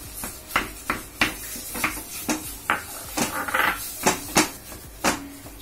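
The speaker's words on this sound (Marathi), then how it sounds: "खवा परतून घेऊया।" Khoa milk solids sautéed in a pan with a spatula, giving a series of sharp, close scraping knocks against the pan at a steady, irregular pace, about a dozen strokes over a few seconds.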